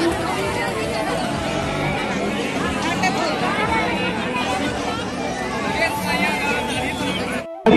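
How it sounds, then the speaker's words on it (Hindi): Dense crowd chatter fills a packed Durga Puja festival ground, a steady babble of many voices throughout with no single voice standing out, ending in a brief dropout and a sharp burst. "तो गाइस देख सकते हो कितना यहाँ पे भीड़ है"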